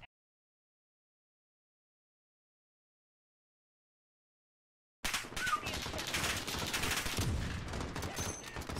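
Rapid gunfire in a hardpoint-mode shooter video game, dense bursts of automatic fire after five seconds of silence, loud and continuous to the end.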